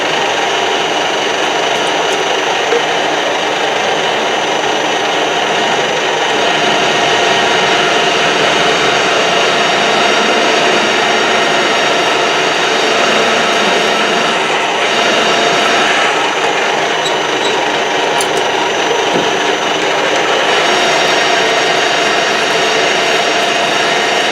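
A bandsaw runs steadily for the whole stretch at 175 revs, a loud, unbroken mechanical drone with a constant whine and no voices.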